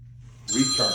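A telephone rings for an incoming call, a bright tonal ring that starts abruptly halfway through and continues to the end, with someone speaking briefly over it.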